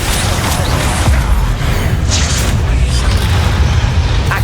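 A Confringo spell detonates in Hogwarts Legacy, a loud, sustained booming roar with rumbling low end that holds steady for several seconds, close and without pause.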